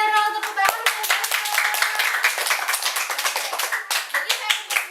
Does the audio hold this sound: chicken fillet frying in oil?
no